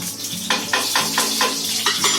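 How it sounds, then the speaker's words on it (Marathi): Oil sizzles on a hot griddle while chutney cooks, a loud close frying hiss broken by regular utensil scrapes and stirring strokes about every quarter second. "आता मी याच्यामध्ये थोडंसं तेल टाकणार, खाली एकदम थोडंसं तेल नावाला"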